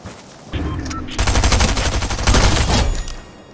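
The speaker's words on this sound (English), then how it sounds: "I thought that was you shooting at me." Rapid bursts of gunfire from the video game Fortnite, dense and loud, rattling continuously for several seconds after a short quieter lead-in.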